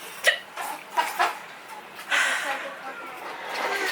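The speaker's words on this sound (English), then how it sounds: "I have hiccups right now" Several short hiccups from a person, sharp and close, spaced irregularly early on, followed by softer breathy sounds and faint background noise.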